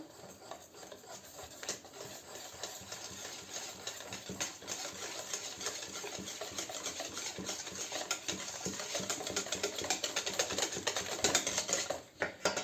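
Continuous wet scraping and swishing as egg white is stirred in a bowl, steady and close, growing a little louder toward the end.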